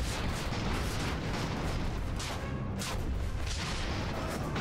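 Dense, continuous rumbling barrage of explosions and artillery fire in the airship battle game Conquer the Skies, booms overlapping into a loud, unbroken roar with no pauses.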